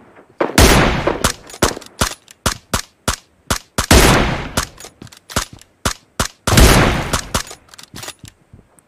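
Bursts of gunfire from a survival video game at a military base, with long sustained automatic volleys alternating with sharp single shots in a rapid, uneven rhythm, loud and close with no talking.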